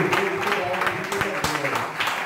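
Applause from a church congregation, steady clapping over a short stretch, mixed with voices and music in the background.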